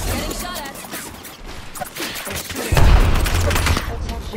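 Rapid gunfire in a team shooter video game, a dense fusillade of cracks and thuds that grows louder and heavier toward the end, with faint voices mixed in.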